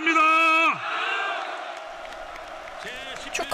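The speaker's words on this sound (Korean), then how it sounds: "축하의 환호와 고성이 뒤엉킨 총회장" At a Hapdong church general assembly, the hall erupts as an election winner is declared: a loud shouted voice gives way to a broad roar of cheering and yelling that gradually settles, with another burst of shouts at the end.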